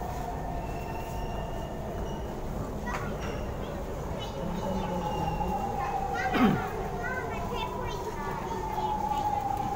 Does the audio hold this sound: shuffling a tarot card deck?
no